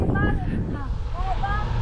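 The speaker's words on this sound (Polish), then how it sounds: "Widzicie, jak wiatr wieje? Ledwo można na nogach ustać." Strong wind blowing in open countryside, heavy low buffeting rumble across the microphone, with a voice speaking over it.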